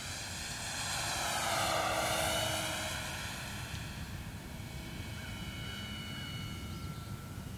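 An FMS Curtiss P-40B Warhawk Flying Tiger 1400mm RC model plane flies a scale airshow routine, its propeller engine droning continuously with a rising and falling pitch as it passes overhead, moderately loud and without talk.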